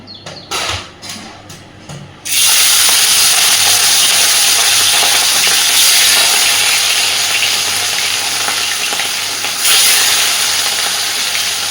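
Rohu fish pieces rubbed with salt and turmeric drop into hot oil in a wok and set off a loud, steady broadband sizzle after a few brief clatters, continuing without talk.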